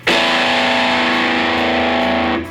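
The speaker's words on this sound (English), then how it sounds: "we can play a 4-note inverted root power chord" A distorted electric guitar strikes a single 4-note inverted root power chord on E and lets it ring, loud and full for over two seconds before it is cut off.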